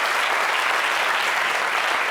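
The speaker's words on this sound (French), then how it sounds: "On l'applaudit, s'il vous plaît, Mimi." Applause from the audience of a French-language entertainment show: a brief, dense burst of many hands clapping, loud and steady throughout.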